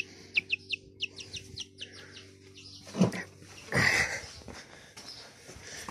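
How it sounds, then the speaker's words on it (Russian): A chick in a summer kitchen gives a series of short, high chirps in a quick irregular run, followed by rustling and a louder scraping noise close by. "Цыпленок."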